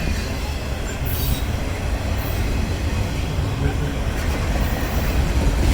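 Norfolk Southern freight train 237, led by an SD70-series locomotive, rumbles steadily past a busy Central Street festival, with continuous rail and wheel noise, brief squeals, and crowd voices mixed underneath.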